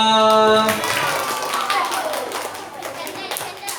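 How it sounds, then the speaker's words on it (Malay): A group of children claps together in a dense burst of applause after a brief voice, the clapping fading gradually. "beri tepukan untuk semua"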